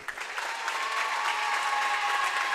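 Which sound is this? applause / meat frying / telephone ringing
applause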